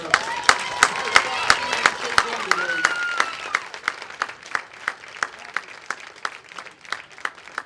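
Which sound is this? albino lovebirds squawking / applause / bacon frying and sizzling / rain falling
applause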